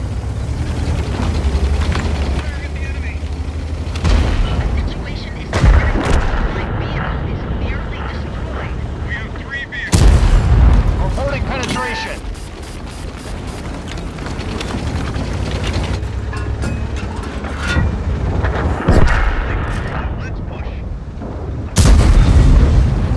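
Tank cannons fire in the online game World of Tanks: several heavy, sharp booms stand out over a low engine rumble and scattered distant shots, while a person talks throughout.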